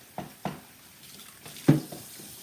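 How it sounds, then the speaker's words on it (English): Running tap water splashes as a cutting board is rinsed in a kitchen sink during meal prep, with a few soft knocks and splashes against a quiet steady trickle. "Let me rinse this board off and wash my hands."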